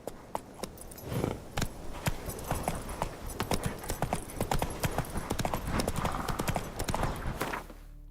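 Roach, a horse in The Witcher 3, galloping with quick loud clip-clop hoofbeats in a driving rhythm, a short whinny and faint jingling of tack mixed in.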